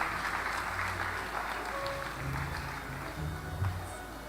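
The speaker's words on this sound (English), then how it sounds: "let's give him a round of applause" Audience applause at a medical graduands' induction ceremony, steady scattered clapping throughout, moderately distant and fairly quiet, with faint room murmur underneath.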